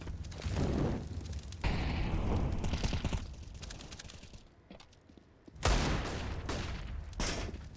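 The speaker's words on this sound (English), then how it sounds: "Deagle's firing away for them." Desert Eagle pistol shots in Counter-Strike on the Vertigo map during a professional match crack out in spaced, punchy bursts amid other round noise, with a brief quieter lull before a loud final volley.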